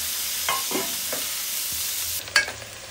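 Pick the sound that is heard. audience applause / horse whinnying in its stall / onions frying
onions frying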